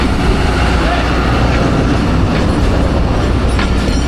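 Pakistan Railways train hauled by locomotive 6408 ZCU20 at Attock City Junction in hot weather: a loud, continuous close rumble of wheels and carriages with clickety-clack beats and faint squeals.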